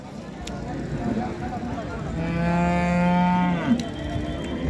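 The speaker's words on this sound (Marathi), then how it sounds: "लाल कंदार बैल आलेत आपल्या बाजारामध्ये" A red Kandhar bull lets out one long, deep moo close by at the Salegaon bull market in Kej, Beed, rising out of the busy murmur of a crowded market with people talking.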